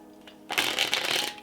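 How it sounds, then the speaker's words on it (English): A deck of playing cards is shuffled close up in one quick burst of riffling, a crisp rapid flutter that starts abruptly after a short quiet moment. "when I ask them to shuffle the deck"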